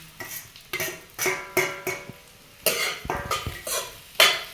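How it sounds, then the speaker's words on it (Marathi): Onion being stir-fried in a pan for Malvani-style okra, with a spoon scraping and clattering against the metal in irregular bursts over a soft sizzle, close and moderately loud, with no talk. "कांदो चांगलं परतलं तर आपण भेंडी घालून घेऊया"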